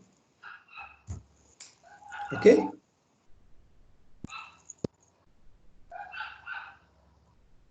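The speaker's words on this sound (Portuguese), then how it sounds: "Tem um cachorro latindo aí" A dog barks a few times in the background of an online meeting, short sharp yelps scattered among quiet stretches while people talk over it.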